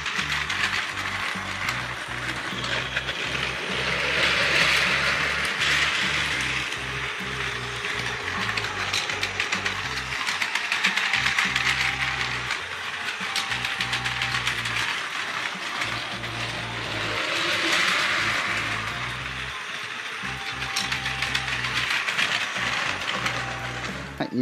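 A Plarail Real Class 485 series toy express train runs along plastic track, its motor and gears whirring with a continuous mechanical ratcheting that swells and fades slightly as it circles nearby.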